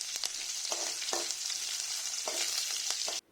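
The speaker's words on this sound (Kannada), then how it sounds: "ಬಾಣಲೆಗೆ ಕರಿಬೇವಿನ ಸೊಪ್ಪು, ಒಣಮೆಣಸಿನಕಾಯಿ ಹಾಗೂ ಹೆಚ್ಚಿಟ್ಟುಕೊಂಡ ಬೆಳ್ಳುಳ್ಳಿಯನ್ನು ಸೇರಿಸ್ಕೊಂಡು" Curry leaves, dried chillies and chopped garlic fry in hot oil in a pan, giving a steady, close sizzle broken by several short scraping stirs.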